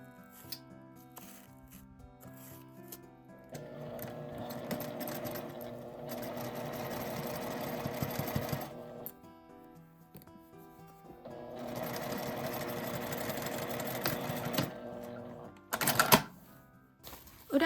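A sewing machine stitches the lining of an insulated drawstring lunch bag in two long, steady whirring runs of several seconds each, close and fairly quiet, ending with a brief clatter.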